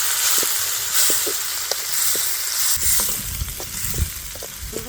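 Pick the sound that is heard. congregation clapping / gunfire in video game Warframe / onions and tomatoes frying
onions and tomatoes frying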